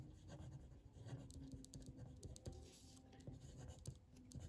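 Chalk or marker strokes scratch across a classroom board during an eighth-grade Turkish history lesson, a busy run of short scrapes and taps close by, with no talk.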